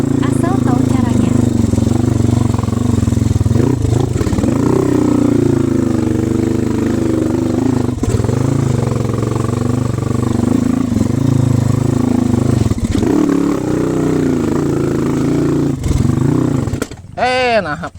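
A motorcycle engine labours up a steep road on the Parompong route in Lembang, holding a loud, steady droning hum with slight rises and dips in revs. A sharper burst comes near the end.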